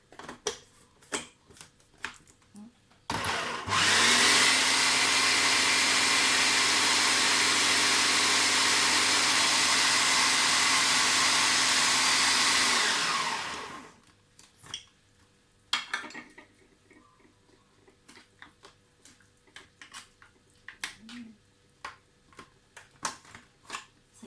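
A blender whirs loudly and steadily for about ten seconds blending a Thai chili paste with a little water, starting and stopping abruptly, with quiet kitchen clinks before and after.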